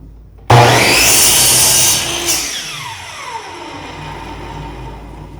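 A power saw bites into 2x4 lumber for a DIY desk, starting with a sudden loud whining cut that holds for about a second and a half, then the blade winds down and fades into a low hum.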